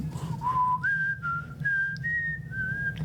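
A person whistles a short song melody, a few clear sustained notes stepping upward in pitch, close and alone with a quiet room hum behind.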